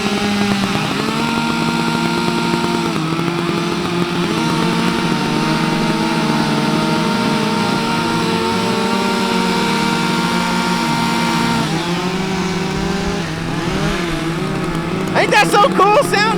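Four Stihl and Husqvarna chainsaws run together at once, a loud, steady layered engine drone with pitches rising and falling, plus a brief burst of higher revving near the end.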